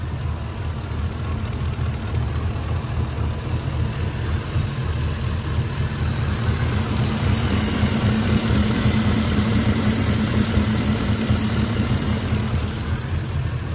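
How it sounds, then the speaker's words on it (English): A 2004-era style Ford F-150 with a 5.4L 3V Triton V8 idles hot and rough from a large vacuum leak, a steady uneven engine rumble with a constant airy hiss riding on top, close and unbroken, no talk. "Engine's laboring, especially at idle, especially at a hot idle, and we hear a hissing noise."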